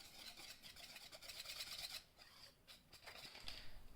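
Cake batter for a banana chocolate cake, with melted butter just mixed in, stirred steadily by hand, giving a continuous close scraping and rasping that thins briefly halfway through before picking up again.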